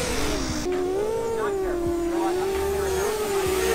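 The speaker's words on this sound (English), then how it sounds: "These are very, very loud propellers." Drone flying with loud toroidal propellers, giving a strong, steady whining drone that shifts slightly in pitch as it flies. The noise stays loud and close throughout.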